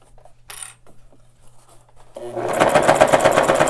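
A sewing machine stitches a three-layer face mask, starting after some quiet handling noises and then running steadily with a fast, rhythmic mechanical chatter, loud and close.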